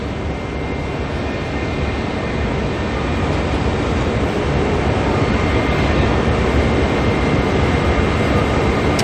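A Jetstar airliner taxiing at Auckland Airport sends out a loud, steady jet-engine roar that stays constant throughout, heard from nearby with no voices.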